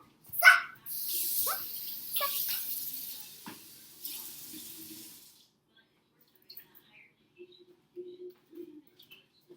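Water runs from a kitchen tap into a sink while dressing is being made, a steady hissing splash for several seconds that then stops, followed by faint clinks and quiet movement.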